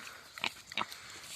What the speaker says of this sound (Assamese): এটা গাহৰি আছে সৰু পোৱালি